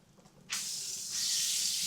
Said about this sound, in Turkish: Arkadaş bakın mermerde ızgara